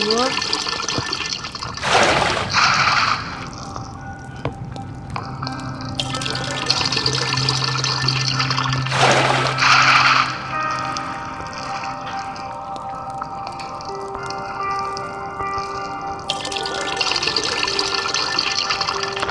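Two bursts of splashing, pouring water in the mobile game Craft Survival, over steady synthetic tones and electronic music, with quieter watery trickles in between.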